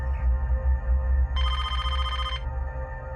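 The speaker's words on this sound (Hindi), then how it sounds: "जरा देखना किसका फोन है।" A telephone bell rings in one sustained burst of about a second, bright and fairly close, over a low background hum.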